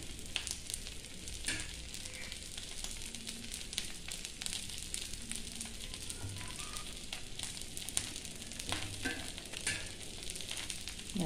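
A chapati cooking on a hot pan gives a steady, soft sizzle and frying crackle throughout, with small pops and a low background hum, no talk over it.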